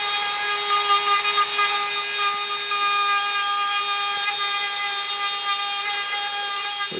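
A Parkside cordless mini rotary tool with a sanding disc whines at a high, steady pitch with strong harmonic overtones. A continuous grinding buzz holds throughout, close and alone.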